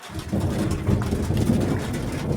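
Steady rain falls in cool, unseasonable weather, a dense, even hiss of drops with a low rumbling undertone, continuous and moderately loud with no voices.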